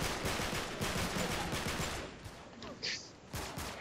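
Rapid turret machine-gun fire in the Uncharted 3 co-op Monastery chapter, a dense continuous rattle of shots that breaks into shorter bursts near the end, with a voice briefly heard beneath.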